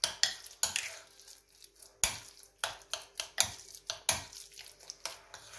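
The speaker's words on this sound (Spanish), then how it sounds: "Y ahora ya es mezclar todo bien mezclado" Minced roe deer tenderloin for steak tartare being mixed in a bowl, a series of sharp utensil clinks and scrapes against the dish in an uneven rhythm, close and fairly quiet.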